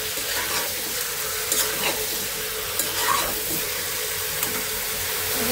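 Chicken and potato pieces fry in a pan with a steady, dense sizzle and hiss throughout, close up, with a few faint stirring knocks and no talking.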